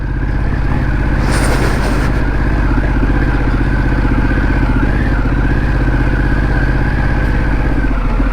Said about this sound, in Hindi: बाइक का आवाज इतना लाउड है कि वो भाग गया है यहां से अंदर।